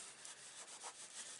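A bone folder rubbing down folded paper card, soft rapid scraping strokes close to the microphone, quiet and continuous with no talking.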